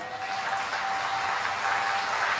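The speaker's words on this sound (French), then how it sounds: "Vous acclamez en même temps." A church congregation at an evangelical service applauds in a steady, dense wash of clapping that holds at full strength from start to finish.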